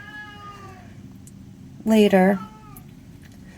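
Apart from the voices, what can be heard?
cat meowing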